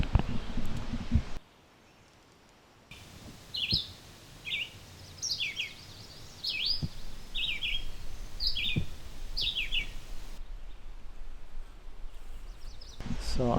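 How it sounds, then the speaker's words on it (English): A great crested flycatcher calls repeatedly in sharp, rising whistled notes at a moderate distance in mature deciduous woods, spaced about a second apart over soft outdoor ambience. "There's the great crested flycatcher calling."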